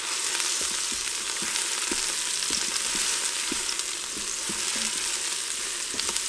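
Six squeezed garlic cloves fry in oil inside a Ninja Foodi, giving a steady, close sizzle scattered with small pops and crackles, with no talking.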